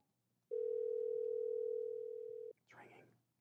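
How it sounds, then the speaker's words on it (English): A steady telephone ringback tone holds for about two seconds on an outgoing cold call to a Los Angeles business, then cuts off, followed by a brief burst of noise as the line picks up. "It's ringing."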